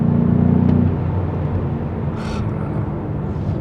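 A large BMW M5 Competition F90 sedan drives fast along a narrow mountain road, its engine a steady low rumble with a heavier surge at the start, then a continuous droning cabin hum.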